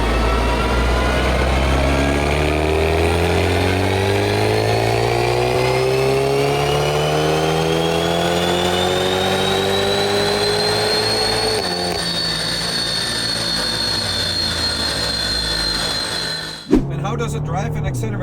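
A stage 2 tuned Audi S3 8Y, making around 430 horsepower, accelerates hard with a loud rising engine note climbing steadily through the gears, one shift midway, then cutting off abruptly near the end.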